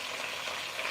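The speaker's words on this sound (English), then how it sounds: "the sizzling sounds like music to my ears" Celery and onions frying in a pot for roasted poblano chicken soup, a faint, steady hiss of sizzling with light crackle throughout, no voices.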